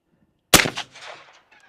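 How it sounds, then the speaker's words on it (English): A single loud .460 Magnum gunshot fired into concrete, a sharp close blast followed by a short decaying rumble and faint debris settling. "We have our 460 Magnum here against concrete. Firing."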